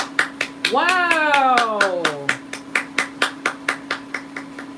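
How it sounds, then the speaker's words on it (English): Hands clap in a steady series of sharp, evenly spaced claps through most of the stretch, with a brief exclamation from a voice near the start. "I'm clapping for that."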